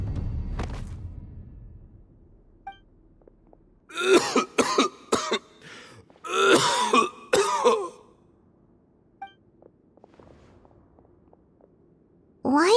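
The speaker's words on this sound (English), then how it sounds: "Why is he coughing so much?" A character in the video game Genshin Impact coughs in harsh, rasping bursts, first a tight cluster of several coughs, then a second longer fit, close and loud against quiet game ambience.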